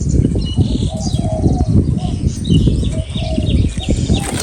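Soft, low dove coos repeat in a steady pattern, close by, mixed with rustling and faint chirps in the background.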